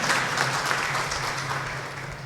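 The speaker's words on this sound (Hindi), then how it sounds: "एक बार इनके लिए जोरदार तालियां होगी" Audience applause at a public event on women's self-reliance, steady broadband clapping from a crowd that continues evenly throughout the short stretch.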